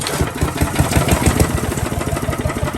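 A small engine picked up at a dump runs at full throttle, a loud, close, rough buzzing drone with a fast pulsing beat that holds steady throughout.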